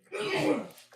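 A single sharp sneeze, close and fairly loud, bursting out and then trailing off into a short breath.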